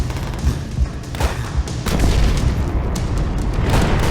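Grenade explosions in the World War II shooter Call of Duty: World at War, several heavy booms amid rattling gunfire on a city street, loud and dense, building into a sustained roar.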